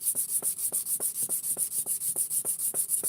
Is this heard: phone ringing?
no